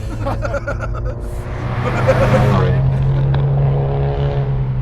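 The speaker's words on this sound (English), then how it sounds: "It's got a good rumble to it, not overpowering." Low engine rumble from a modified 2015 Subaru WRX STI, heard from inside the cabin, a steady deep drone that swells slightly midway, with faint voices in the background.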